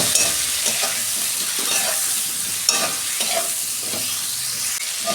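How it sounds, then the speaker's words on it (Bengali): Bitter gourd fries in white oil with turmeric and salt, a steady loud sizzle broken by repeated scraping stirs at a regular pace, close up and with no talk. "উচ্ছেগুলো আমি ভালো করে লাল লাল করে ভেজে নেব"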